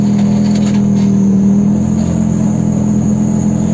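A T-80 tank engine revs at high RPM, a loud, steady, droning whine with a constant low hum. It holds evenly for the whole stretch, with no talking.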